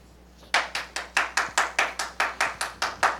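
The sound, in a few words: audience clapping at a county board public hearing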